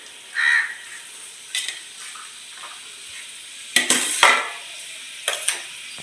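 Onions and chillies frying in a home kitchen pan, a soft steady sizzle broken by several sharp stirring clatters of utensil on metal, close and fairly loud with no talking.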